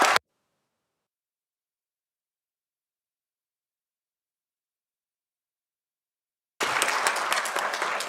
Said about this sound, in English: So please can we give a round of applause to our Kiwanis.